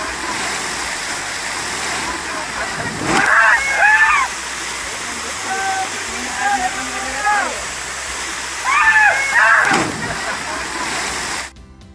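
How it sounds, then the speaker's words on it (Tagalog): Waterfall at the end of a bridge in Baguio City, a steady rushing roar of falling water throughout, with people talking over it at intervals. "Sa dulo ng tulay ay makikita na ang talon."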